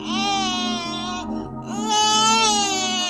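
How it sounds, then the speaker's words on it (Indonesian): A baby cries in a sustained, high wail, breaking briefly for a breath before resuming loudly and steadily. "Lalu, suara tangisan bayi terdengar. Halus, lirih, tapi nyata."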